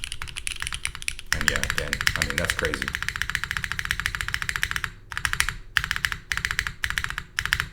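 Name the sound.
typing on Bowl Keyboards OC-62 mechanical keyboard, MX2A switches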